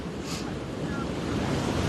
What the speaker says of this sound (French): la force de la mer là, avec le vent, on se fait des vagues alors qu'on est à la Méditerranée